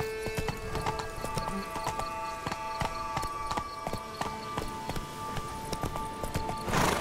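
A horse gallops in The Witcher 3: Wild Hunt, steady rapid hoofbeats thudding in a continuous rhythm, close and fairly loud, with a brief burst of noise at the end.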